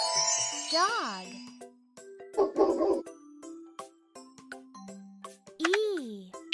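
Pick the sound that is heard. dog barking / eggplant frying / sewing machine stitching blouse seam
dog barking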